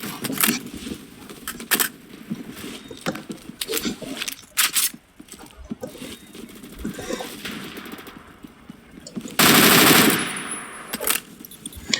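Automatic rifle fire in the video game Phantom Forces crackles in rapid bursts, some short and some sustained, with a long loud burst near the end and someone talking over the shooting.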